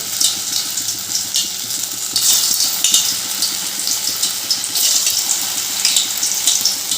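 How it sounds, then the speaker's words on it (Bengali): Soybean koftas frying in hot oil on a gas stove make a steady, bright crackling sizzle that swells a little partway through and carries on unbroken, with no voices. "তেলটা গরম হয়ে গেছে এবার আমি কোপ্তাগুলো ভেজে নেব"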